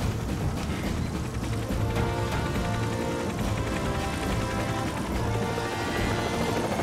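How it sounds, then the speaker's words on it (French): A cartoon helicopter's rotor and engine roar steadily throughout, loud and close, with a constant thudding drone filling the whole clip. "il n'y a que Nicolas Prim qui pouvait gâcher notre balade en hélicoptère"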